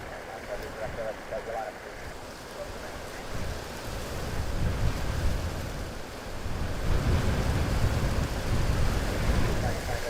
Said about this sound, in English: Probably hear some of the wind as well here.